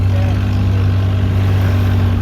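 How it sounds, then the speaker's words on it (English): A longtail boat's outboard motor with its exhaust pipe hanging straight out from the engine runs loudly and steadily, a constant droning hum without pauses. "This is an outboard motor with the exhaust pipe hanging straight out from the engine."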